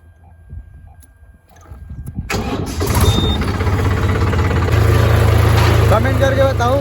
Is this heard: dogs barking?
no